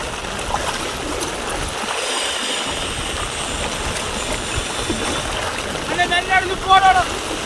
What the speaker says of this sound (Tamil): அந்த வீதி ஓடம் எந்த அளவுக்கு அதிலேயே தண்ணி போகுதுன்றதை பார்க்கலாம்.